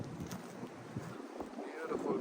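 Gusty wind buffets the microphone outdoors beside a lake with a waterfall, a steady low rumble with brief louder gusts throughout.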